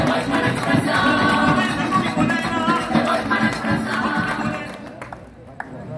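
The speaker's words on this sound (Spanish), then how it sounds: "¡Fuertes los aplausos!" Audience applause after a dance company's performance at an evening devotional dance event, a dense wash of clapping and crowd noise that holds steady for several seconds, then thins out and fades near the end.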